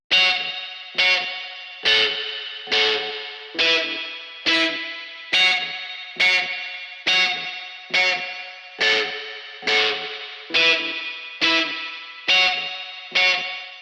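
An electric guitar runs through amp modeler cabinet simulations, playing a repeated distorted chord strike about once a second. Each hit rings out and fades before the next, giving a steady sequence of loud, near, effect-laden stabs.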